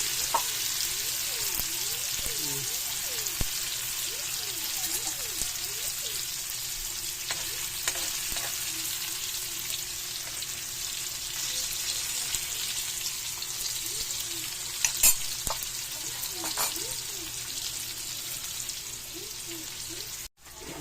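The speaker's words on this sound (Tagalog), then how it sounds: "Tokwa guys, prituhin ko muna to." Tofu (tokwa) frying in a pan gives off a steady, close crackling sizzle throughout, with faint scraping from stirring and a brief clatter near the end.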